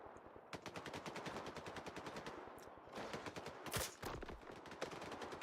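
Automatic gunfire in the video game S.T.A.L.K.E.R. 2 comes in rapid sharp bursts with short gaps between them, and one heavier blast falls midway, all fairly quiet in the mix.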